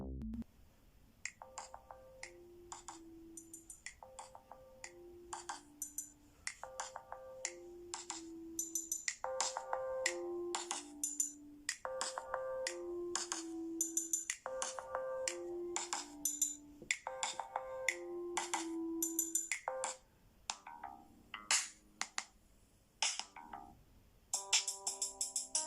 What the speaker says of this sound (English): we're gonna play a quick soundtrack from the playlist here